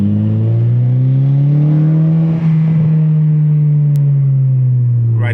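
A 2015 Honda Civic Si engine, stock and untuned, holds a loud, close, steady drone that rises and eases slightly, with a brief click near the end.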